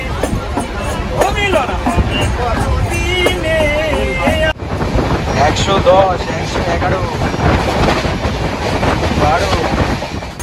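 A train running after departure, a continuous loud rumble and rattle of the carriage with people talking and a crowd murmuring throughout.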